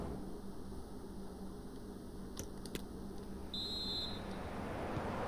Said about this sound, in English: And there goes the half-time whistle.